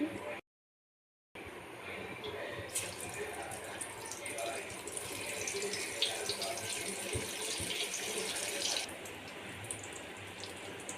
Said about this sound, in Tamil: அடுப்பில் எண்ணெய் சட்டி வச்சுருக்கேன். இப்போ பொரித்து காட்டுறேன்